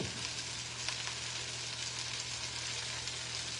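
Salmon sears on high heat in a 12-inch stainless nonstick pan, giving a steady, even sizzle that holds at a constant level throughout with no talking.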